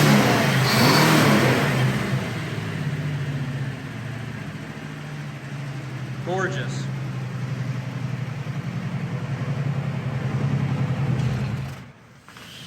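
A 1955 Ford Crown Victoria restomod with a rebuilt drivetrain revs up loudly and then settles into a steady, nearby idle, with a brief spoken word partway through.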